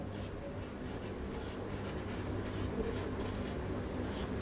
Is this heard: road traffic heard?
no